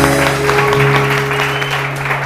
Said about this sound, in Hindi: नेहा के लिए बहुत सारे तालियां.